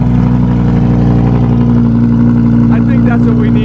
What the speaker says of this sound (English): It has the Fabspeed Valvatronic exhaust system on it along with the tune and everything else.